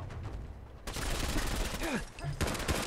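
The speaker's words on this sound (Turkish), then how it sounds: "Tekli ateş ediyor ama çok fena damage yapıyor." Gunfire in Fallout 4's Nuka-World add-on, with dense bursts of rapid shots and explosive crackle filling the clip, loud and continuous, with brief pauses between volleys.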